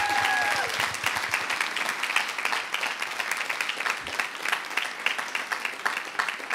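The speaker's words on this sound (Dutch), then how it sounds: "Dus allereerst applaus voor Julien." Steady applause from a gathered audience honoring a singing group's leader, filling the room at a constant level, with a faint voice briefly audible at the start.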